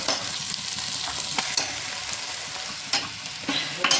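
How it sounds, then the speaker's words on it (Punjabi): An onion tempering with green chili and tomato fries for Punjabi saag. A steady hiss runs throughout, broken by several sharp spatula scrapes and clinks against the pan, all close and unaccompanied by speech. "ਹੁਣ ਆਪਣਾ ਪਿਆਜ਼ ਭੁੱਜ ਗਿਆ ਇਹਦੇ ਵਿੱਚ ਆਪਾਂ ਹਰੀ ਮਿਰਚ ਤੇ ਟਮਾਟਰ ਵੀ ਪਾ ਦਾਂਗੇ"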